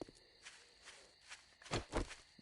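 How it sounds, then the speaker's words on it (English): Footsteps in the survival video game 7 Days to Die: a run of soft, irregular steps that grows louder and nearer toward the end, with a couple of heavier thuds, no talking over them. "Or, well, footsteps, I should say."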